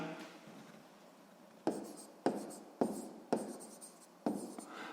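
Pen or chalk writing out a sixth-grade maths solution about room wall area, in five sharp scratchy strokes spaced about half a second apart after a quiet start, close and moderately loud.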